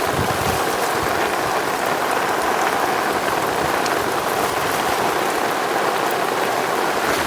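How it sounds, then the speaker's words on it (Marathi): A dense downpour of monsoon rain by a Konkan village river drums steadily and loudly on surrounding surfaces, an unbroken wash of splashing drops with nobody talking. "पाऊस जोरात चालू झाला"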